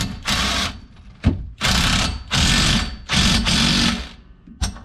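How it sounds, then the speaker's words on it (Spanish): Ratcheting wrench tightening the nut on a Volkswagen Pointer rear shock absorber, loud rapid mechanical clicking in several sustained bursts separated by short pauses, close up with no talking. "vamos a apretar la tuerca que tenemos ahí adentro"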